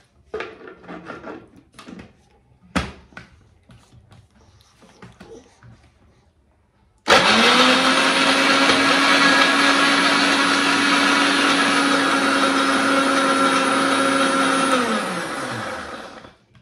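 A Croma mixer grinder blends sweet lime fruit juice. After a few clicks and handling knocks, the motor starts abruptly with a loud, steady high whine, runs for about eight seconds and then winds down.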